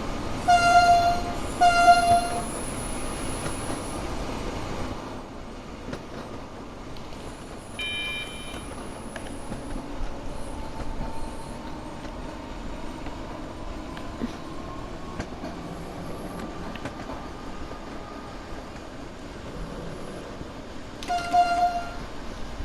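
A train rolls along the rails with a steady rumble, heard from inside a vehicle with windows down, brief horn-like tones sounding near the start and again at the end.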